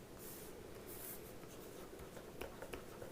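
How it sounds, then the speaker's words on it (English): Pen scratching across paper in quick handwritten strokes, close but faint, with small rustles and taps and no voices. "I'm just going to write it quickly here"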